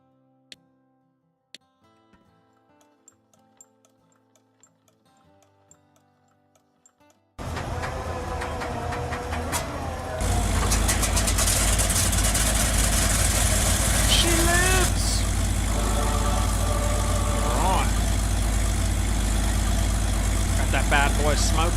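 Vickers E tank engine in a tank mechanic simulator game cranking to life after a quiet stretch, then settling into a loud, steady rumbling idle with mechanical ticking and a voice talking over it.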